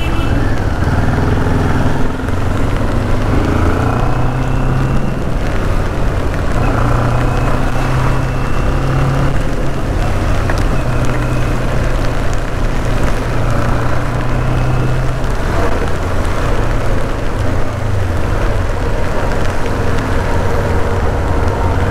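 A CFMOTO NK400 motorcycle engine drones steadily while riding, loud and continuous with a sustained low hum and wind rush, with no breaks throughout.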